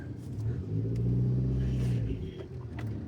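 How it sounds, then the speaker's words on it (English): A car rolling slowly around corners, a low steady engine rumble heard from inside that swells briefly in the middle and then eases, with no talking. "just driving slowly around these corners here"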